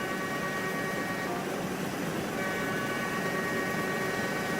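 An Amtrak Metroliner train in the RO-Scale Sandbox video game slowing down, a steady loud rumbling rail roar with faint tonal hum running continuously throughout, no talking.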